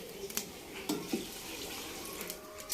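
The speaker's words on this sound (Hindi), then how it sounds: "तो मैं ना 5 गिलास ही पानी डालूंगी।" Water poured from a glass into a cooking pot of rice and vegetables, a soft splashing flow broken by a few light clinks of metal and glass.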